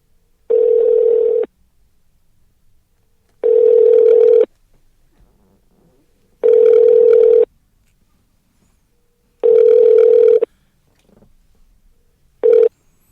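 A telephone ringback tone sounds while a phone call is being placed: four loud, even one-second pulses separated by two-second silences, and a fifth pulse is cut short. No voices are heard.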